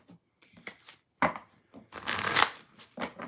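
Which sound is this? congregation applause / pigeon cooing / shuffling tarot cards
shuffling tarot cards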